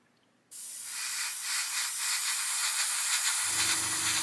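White paint spray-painted onto an Airfix Sea King model in a spray booth: a steady, loud airbrush hiss begins abruptly and continues alone, joined near the end by a low extractor-like hum.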